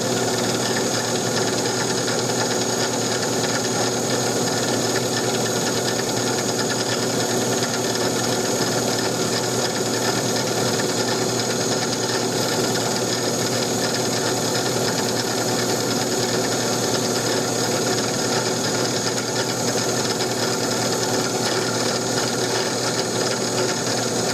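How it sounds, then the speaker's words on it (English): An electric drill whirs in one steady, loud, unbroken grind as it bores a slanted hole through a Winchester Model 21 shotgun forearm. No one speaks. "Drill that hole slanted."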